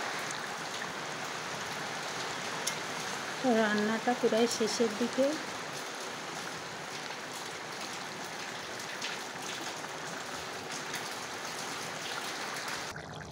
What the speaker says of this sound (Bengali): রান্না করতে করতে দেখুন কি জোরে বৃষ্টি চলে এলো